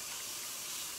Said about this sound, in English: Now I'm going to rinse out the blender.